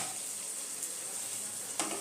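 Bengali dahi parwal (pointed gourd in yogurt gravy) simmers in a pan of boiling water, giving a close, steady bubbling hiss throughout with one brief clink near the end.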